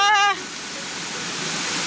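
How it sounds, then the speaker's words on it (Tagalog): A waterfall in Calauag, Quezon, its falling water making a steady broadband rush that continues unbroken, with a short burst of voice at the very start. "Ayan po yung bumabagsak na tubig."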